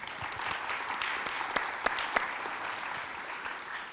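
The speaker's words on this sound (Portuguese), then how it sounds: "Peço uma salva de palmas, por favor." Sustained applause from a forum audience at a regional and community journalism event, steady dense clapping with a few sharper individual claps standing out, no speech over it.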